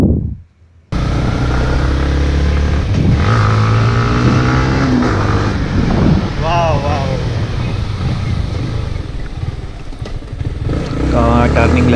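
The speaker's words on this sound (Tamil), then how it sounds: "ஆக்சிலரேஷன் பவர் செம்மையாக போகுது வண்டி" A Yamaha MT 15 motorcycle accelerates on the road, its engine revving up through rising sweeps with heavy wind rush, while a rider's voice talks over it.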